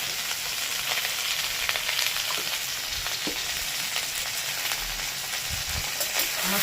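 Potatoes fry hard in hot oil with chilli flakes and sesame seeds, giving a loud, dense, unbroken sizzle, with occasional stirring scrapes and pops throughout.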